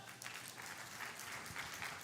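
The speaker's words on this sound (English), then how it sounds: "give your biggest after break round of applause to Suman!" A short burst of audience applause at a tech talk, many hands clapping steadily at moderate volume.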